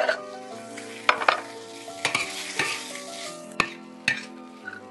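Cured pork frying in fat rendered from cured pork belly, a loud close sizzle broken by sharp clatters and scrapes of the spatula stirring several times.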